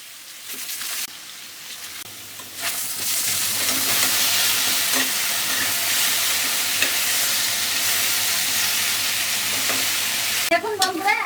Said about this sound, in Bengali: তেল গরম হয়ে গেছে, দিয়ে দেবো মাছের মাথা।